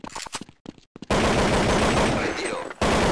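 Rapid bursts of gunfire from a bomb-planting team shooter game, a few sharp shots followed by sustained loud automatic fire with a brief pause near the end.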